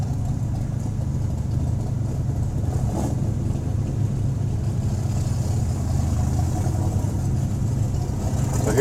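A small International rat rod pickup with a fuel cell drives at an autocross event, its engine a steady mid-pitched rumble held at a fairly even loudness throughout, with no talking.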